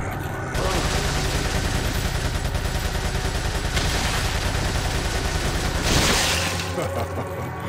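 Rapid, sustained SMG fire from Resident Evil 4, loud and continuous with a steady fast rhythm for several seconds and a heavier burst near the end.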